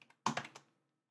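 Java code typed on a computer keyboard: a brief, quiet cluster of four or five sharp key clicks in quick succession after a faint tap, then silence.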